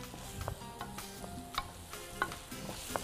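Onions sautéing in a pan with a sprinkle of salt and pepper, a steady close sizzle broken by periodic scrapes and stirs of a utensil, with no talking.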